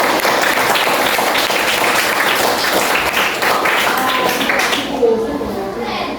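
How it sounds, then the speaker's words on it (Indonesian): A classroom of students claps for a classmate during a lesson, a loud sustained burst of children's clapping that tapers off abruptly near the end. "Tepuk tangan untuk si Dion."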